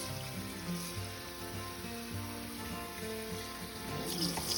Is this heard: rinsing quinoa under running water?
yes